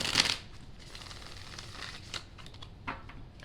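Tarot cards are shuffled by hand in a few quick riffles and rustles. A brisk burst comes at the start, followed by softer papery clicks and flutters, close and light, with no talking.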